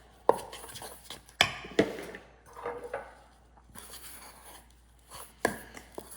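Thick rye flour dough mixed by hand in a bowl, with irregular sharp knocks and scrapes of a utensil against the bowl and soft squelching between, close and fairly loud.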